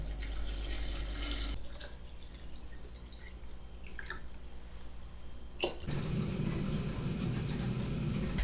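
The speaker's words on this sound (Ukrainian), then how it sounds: "І тепер заливаю теплою водою." Warm water is poured into a glass jar of cherries and sugar for homemade cherry compote, a steady close splashing and trickling that briefly breaks off and then resumes with a fuller gush.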